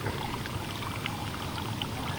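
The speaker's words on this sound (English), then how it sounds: "Interesting that there's so much water pouring out of the tank." Water pouring steadily out of a tank at a shed construction site after overnight rain, a continuous rushing, trickling flow with no one talking.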